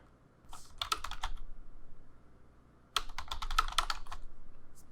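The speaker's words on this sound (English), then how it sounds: "Now that I've generated, I would need to type a little bit." Computer keyboard typing in two short bursts of quick, close, crisp key clicks separated by a brief quiet pause, with nothing else in the background.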